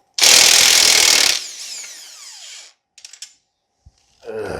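A loud power tool bursts on, likely an impact gun working the swing arm bolt on a Honda TRX250R ATV, running hard for about a second, then winding down with a fading whir, followed by a few clanks and a short resumed burst.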